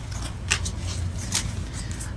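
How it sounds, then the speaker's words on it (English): Tarot cards shuffled by hand during a reading, giving soft papery riffles and a few sharp snaps in irregular bursts close to the listener. "we're gonna go ahead and shuffle that again just to be sure"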